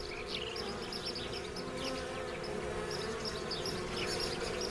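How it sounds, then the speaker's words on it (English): Wasps at their nest fanning their wings to spread water, a steady close insect buzz that holds unbroken and fairly loud throughout. "Wasps drink a lot, then return to the nest and atomize the water with movements of their wings"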